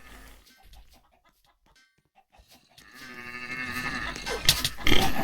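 Sheep bleating in the video game Roblox, a few bleat-like calls that get louder and busier toward the end, mixed with other game noises and no talking.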